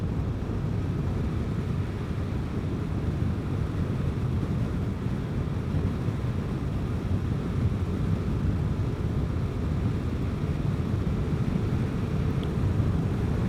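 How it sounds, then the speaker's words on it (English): Steady, dense wind rush buffeting past while riding a Vespa GTS 300 scooter, a constant loud low roar with no breaks and no voices. "That wind feels so good."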